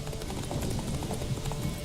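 Roach, Geralt's horse in The Witcher 3, gallops with quick, steady clip-clop hoofbeats, close and continuous across the short stretch.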